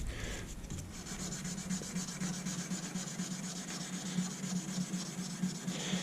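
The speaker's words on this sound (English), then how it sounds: "Maybe this side right here we'll just do a straight up 600 grit." A knife blade is hand sanded with 600 grit sandpaper, giving close, steady rasping strokes in a quick repeating rhythm with no talking.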